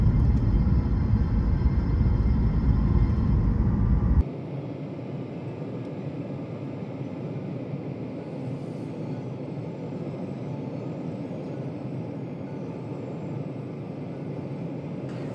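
Airliner cabin noise on the approach to Siem Reap: a loud, broad roar that drops abruptly to a quieter, steady hum partway through, continuing evenly to the end with nobody speaking.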